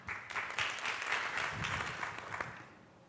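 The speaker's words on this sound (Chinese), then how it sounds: "那接下来我们就再掌声欢迎第二位讲者" Audience applause at a civic tech conference session as the next speaker is welcomed, a dense burst of clapping that starts at once, holds steady, then thins and fades out.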